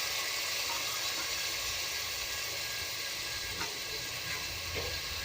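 Curry leaves and chopped onions fry in hot oil with mutton for a chana dal and mutton curry, giving a steady, dense hiss and crackle that holds evenly throughout, with no voices.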